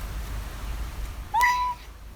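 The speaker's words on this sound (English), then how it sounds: "Oh, suddenly there's a cat." A single short, clear meow from a nearby cat rises and then holds, sounding alone against a quiet room.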